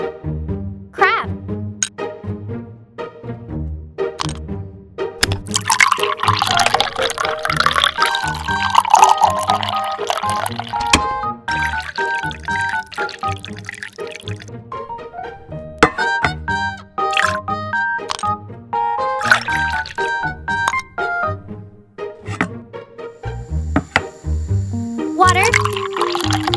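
Water poured into a miniature cooking pot in a tiny toy kitchen while crab is being prepared. Splashing and trickling ride over a steady, rhythmic music track.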